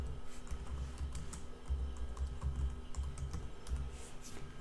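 A computer keyboard clatters as a menu name is typed into WordPress, with a steady run of quick, soft key clicks and no talking.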